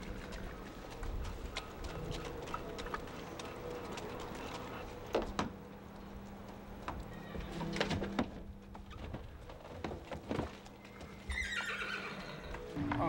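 A horse loaded into an equine spa neighs and whinnies while hooves clip-clop on a hard floor, with a loud clank partway through, birds chirping faintly and people talking quietly.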